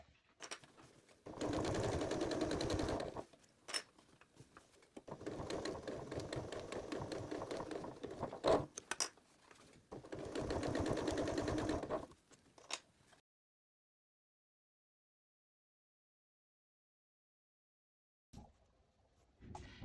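A sewing machine stitches bias tape down along the folded edge of a potholder in three long motor-driven runs of rapid needle chatter, separated by short pauses, then falls silent before a brief final burst.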